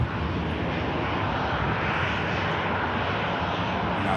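A Ryanair airliner's engines hold a steady, loud broadband roar on the taxiway at Manchester Airport, unbroken for several seconds with no voices.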